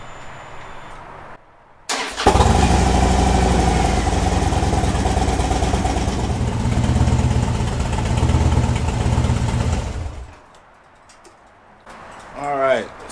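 A Harley-Davidson Dyna motorcycle engine, just refilled after an oil change, starts up and runs loud and close with a steady throbbing rumble for about eight seconds, then cuts off; faint bird cooing follows.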